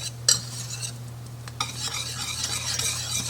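Cocoa powder being whisked into two sticks of melted butter in a pan on the stovetop, a steady scraping and light sizzling texture with a couple of sharp clinks of the whisk against the pan.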